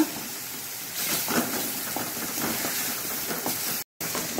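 Chilies sizzle steadily in hot oil over a low flame while onion and okra masala cooks, a continuous close, even hiss with faint crackles and a short dropout near the end.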